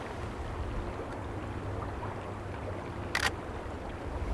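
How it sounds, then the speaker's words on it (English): A single camera shutter fires, a drawn-out click lasting a fraction of a second over a steady low background hiss. "And you can hear the shutter speeds quite a bit slower."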